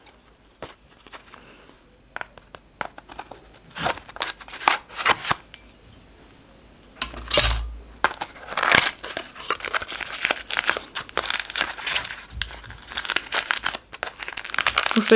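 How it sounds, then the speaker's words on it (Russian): Scissors and hands tearing and crinkling the plastic wrapping of a parcel shipped from India, with close, irregular bursts of rustling and snipping that are sparse early on and grow denser and more continuous in the second half. "А что я делаю? У меня же есть ножницы."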